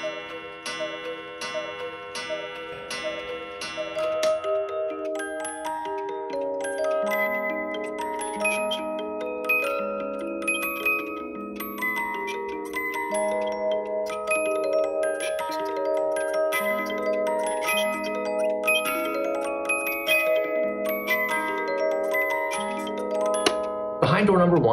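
Kuner musical cuckoo clock with three weights playing Waves of the Danube, a bright metallic music-box melody of plucked tones over steady ticking, loud and close, running alone throughout.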